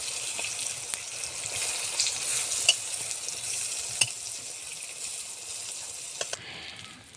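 Eggplant slices sizzle in a frying pan with a continuous close hiss, punctuated by small pops and occasional utensil taps, easing off quieter in the final second.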